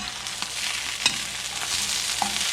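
Scrambled egg mixture being stirred in a pan, a soft continuous scraping and wet swishing with a faint sizzle, one sharper clack of the utensil near the middle.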